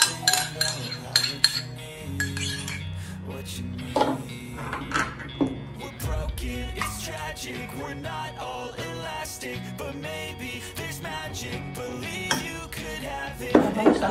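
Eggs and natural yogurt are whisked together in a bowl, with close clinking and scraping of a utensil against the bowl and occasional clatter of dishes; no talking is heard during the mixing.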